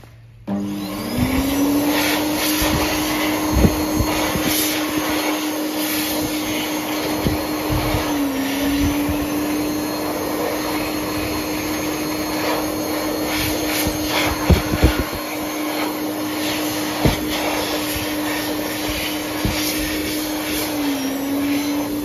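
A rare Mitsubishi Jet Towel Mini hand dryer at a university washroom runs loud and steady for over twenty seconds, a constant blowing roar with a steady whine and faint knocks of hands moving in the airflow.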